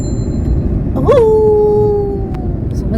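A single dog howl rises and holds a long, steady wavering note for about two seconds before fading, over a constant low background rumble.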